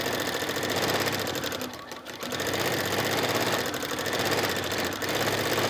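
A sewing machine runs steadily while free motion quilting on fabric, a dense continuous mechanical whir with a brief dip midway, close and alone without talk.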